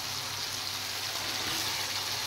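Fried potato pieces sautéing in a pan with melted tomato and slit green chillies for a Bengali jyanto maach fish curry, a steady soft sizzling hiss with no break.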